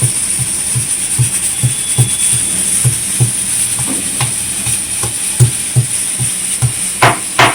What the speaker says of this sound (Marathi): आई लसूण चेचत आहे